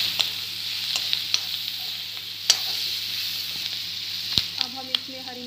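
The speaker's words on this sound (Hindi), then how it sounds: "इसको मिक्स करेंगे अच्छे से" Okra with red chilli, masala and turmeric being stirred in a pan: a constant soft sizzle from close by, broken by sharp scraping and clicking strokes of a spatula at irregular intervals.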